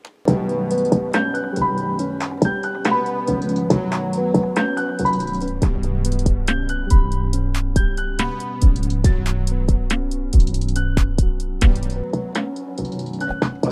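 Synth keys layered over a trap beat built in FL Studio play a bright chord melody above thumping kicks, booming 808 bass and crisp hi-hats, the full loop running loud and steady with no voice.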